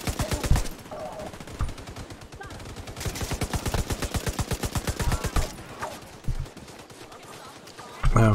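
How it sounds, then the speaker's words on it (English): Gunfire in The Division 2: long bursts of rapid, evenly spaced automatic shots, loud and close, with short pauses between bursts and a heavier blast at the end. "So we'll shoot them up a little bit."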